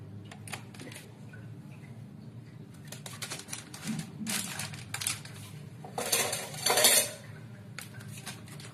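A bowl used for mixing henna and hair colour being handled, with scattered clinks and knocks that swell into a louder rattling clatter near the end.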